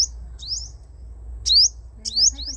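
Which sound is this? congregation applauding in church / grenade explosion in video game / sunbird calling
sunbird calling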